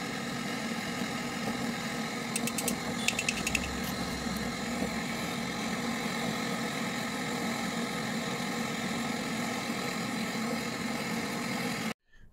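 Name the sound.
vacuum pump evacuating refrigerator system after welding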